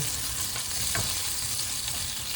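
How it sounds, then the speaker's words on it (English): Steady sizzling and crackling of butter in a hot frying pan for cooking scrambled eggs, with a faint scrape or stir partway through, no voices. "You don't want it sizzling too much, so I turn the heat down quite considerably."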